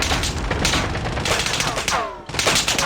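Rapid, dense bursts of gunfire in a Call of Duty video game crackle continuously, a loud sustained barrage with a brief dip before resuming.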